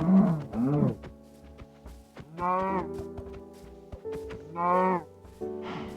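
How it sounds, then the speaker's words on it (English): Repeated low moos from a cow struck by a player in Minecraft Hardcore mode, several drawn-out bellows separated by short gaps, loud and close with no talking. "I got distracted and decided to absolutely annihilate this cow."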